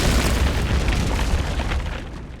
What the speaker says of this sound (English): Yep, that's an explosion.